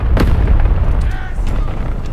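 A Dicker Max tank destroyer firing its cannon in War Thunder gives a single close, heavy boom near the start, followed by rumbling low engine noise and faint battlefield clatter.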